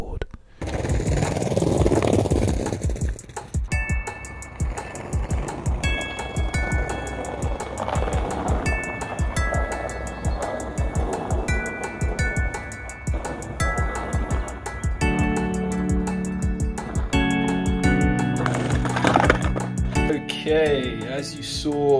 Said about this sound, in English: On to me actually riding the skateboard.